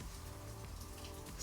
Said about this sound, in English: it's just raining that ridiculous now